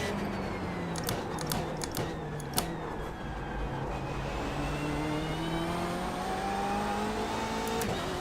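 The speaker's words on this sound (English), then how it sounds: "I gave it a little bit of throttle there, but the rear tires didn't spin" A BMW M8 race car in iRacing at Summit Point, its engine note sliding up and down through throttle blips and a longer rising rev, close and steady, with a few sharp clicks at the start.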